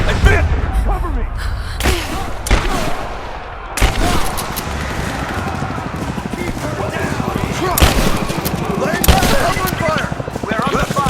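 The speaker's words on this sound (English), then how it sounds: "We're under fire at the edge of the village." Gunfire crackles through a firefight at the edge of a village in Rise of the Tomb Raider, with repeated sharp shots and bursts over a dense battle din while voices speak and shout.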